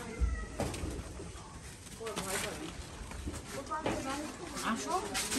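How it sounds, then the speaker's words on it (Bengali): Soft pigeon cooing at a nest area in Tetulia, Bangladesh, several low murmuring calls repeating through the clip, mixed with background chatter and a busy, echoing space. "আর এখানে হচ্ছে কবুতর"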